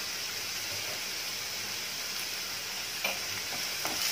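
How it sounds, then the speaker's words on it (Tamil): Onions sautéing in a pan, a steady, broad hiss of frying that holds evenly throughout, with a few light stirring scrapes near the end. "ஆனியன் போட்டு ஆனியன் வதங்கிறது தேவையான அளவுக்கு உப்பு போட்டுக்கலாம்"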